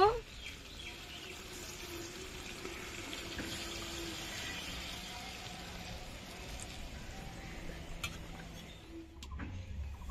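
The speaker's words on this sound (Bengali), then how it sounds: "জলটা আগের থেকে ফুটিয়ে নিয়েছি, এখন দিয়ে দেব।" Pre-boiled hot water is poured into a pot of village-style country chicken curry, making a soft, steady stream that runs for several seconds at moderate distance and ends with a few clinks.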